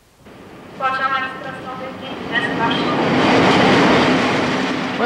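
A train from Warsaw pulls into Tarnów station in southern Poland, its rumble building steadily to a loud, close roar, with a brief squeal early on and a voice speaking over it.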